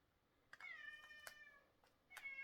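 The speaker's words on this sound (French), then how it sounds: "Excusez-moi, c'est mon chat" A cat meows softly indoors, a few drawn-out calls with short pauses between them, close but quiet, with no talking.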